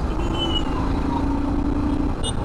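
Road traffic passing close by during an overtake on a motorcycle, picked up by a helmet-mounted mic: a continuous loud rumble of engines and wind with a brief higher tonal squeal near the end.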